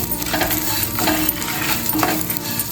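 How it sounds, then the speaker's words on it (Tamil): Onions sauté in a pan with drumstick leaves, a crackling fry under repeated scraping strokes of a spoon stirring, close and steady without talk. "இது எல்லாமே நல்லா வதங்குற வரைக்கும் வதக்கி விட்டுடலாம்."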